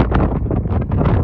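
Strong, cold wind buffets the microphone at a lakeside rest area by Bear Lake in loud, gusting rumbles that surge and dip throughout, with no voices.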